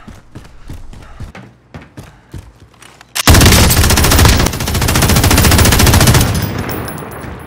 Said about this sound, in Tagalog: machine gun problems